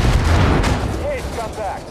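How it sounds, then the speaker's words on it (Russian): A bomb dropped from an aircraft in Far Cry 5 explodes with a heavy low boom that rumbles and fades over about two seconds, with a voice heard faintly as it dies away. "Сбрасываю бомбу!"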